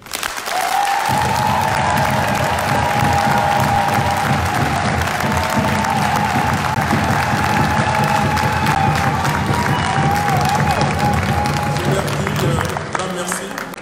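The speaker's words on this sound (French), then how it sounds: "J'aimerais que vous puissiez ici applaudir tous les Congolais qui sont dans la diaspora" A crowd of Congolese diaspora supporters at a political rally in Brussels applauds and cheers loudly, with dense continuous clapping and raised voices sustained for over ten seconds before trailing off.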